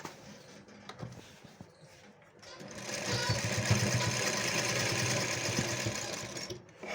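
A sewing machine stitches a can-can skirt, and a steady close mechanical whir runs for several seconds after a quieter stretch with faint handling sounds.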